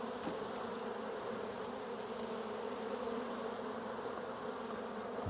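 A steady, dense buzzing of many honey bees close by at an opened hive, continuous and unbroken, with a low hum underneath and no voices.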